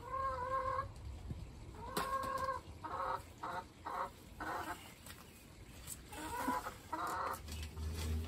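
Hens clucking in a backyard hen run, a series of short, harmonic calls and bursts coming in irregular clusters, fairly close, over a steady outdoor background with no talk.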